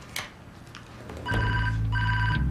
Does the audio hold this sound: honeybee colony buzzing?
no